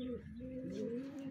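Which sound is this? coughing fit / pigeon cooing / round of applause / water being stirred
pigeon cooing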